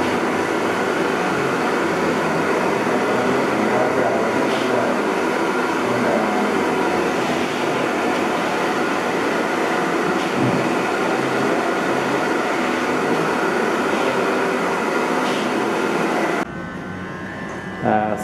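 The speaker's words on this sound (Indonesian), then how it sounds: "sekarang hair dryer ya bang ya" A hair dryer blows steadily at a barbershop haircut session, giving a loud, continuous airy roar that stops abruptly near the end.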